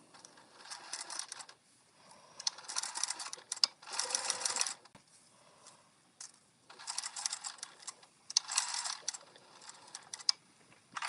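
A sewing machine stitches a wallet seam in several bursts of fast mechanical whirring, with short pauses between runs, close and clear with no talking.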